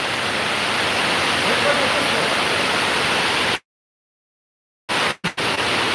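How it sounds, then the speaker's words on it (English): Steady rain falls outdoors as a hiss of broadband noise, broken by a sudden stretch of silence and a few sharp dropouts before the rain hiss returns. "So there, it's raining right now."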